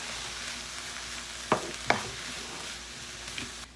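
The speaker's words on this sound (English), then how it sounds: "we're gonna saute this for about 3 minutes" Quiet sizzle of sliced fresh zucchini and fresh corn sautéing in a pan, a soft steady hiss broken by two sharp clinks of a utensil against the pan.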